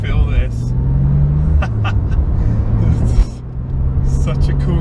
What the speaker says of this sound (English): The minute you take off, that exhaust just rumbles.